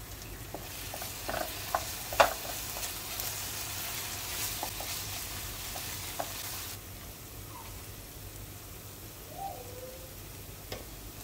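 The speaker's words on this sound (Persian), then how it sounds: "حالا ربمون رو بهش اضافه میکنیم و ربمون هم تفت میدیم تا کاملا خوش رنگ بشه." Tomato paste fries in a pan with vegetables, giving a soft, steady sizzle broken by occasional scraping and tapping of a stirring utensil, faint and without speech.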